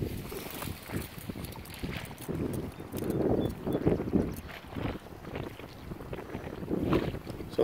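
Gusty wind buffeting the microphone outdoors while fishing for walleye on open water, rising and falling in rumbling bursts with faint water lapping beneath.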